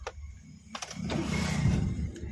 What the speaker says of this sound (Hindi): चलो आप क्लच दबा के इंजन को स्टार्ट करो।